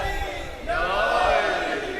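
A crowd at a religious gathering shouts a slogan in unison, a loud swell of many voices rising after a brief murmur and holding strong to the end.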